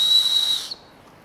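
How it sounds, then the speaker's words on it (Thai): A built-in emergency whistle on the chest-strap buckle of a Gregory Detour 40 backpack gives one loud, steady, shrill blast lasting about half a second, then cuts off abruptly into quiet. "ก็สามารถจะใช้เป็นนกหวีดที่เราจะเป่าเรียกในสถานการณ์ฉุกเฉิน"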